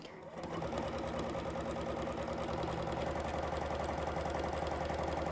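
Sewing machine stitching a pouch seam, a steady fast mechanical whir and rattle that starts abruptly and runs continuously, close and moderately loud.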